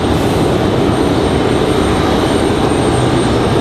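A Boeing 737 Max 9 jet airliner at Raleigh Durham airport gives a loud, continuous roar, steady and close throughout the clip.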